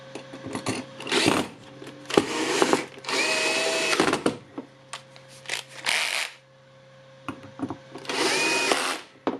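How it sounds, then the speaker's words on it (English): Screws are driven and tightened on a Makita jigsaw under repair, heard as short bursts of close whirring power-driver noise separated by pauses and light clicks and handling sounds. "to get all the screws in the holes, and then I will tighten them"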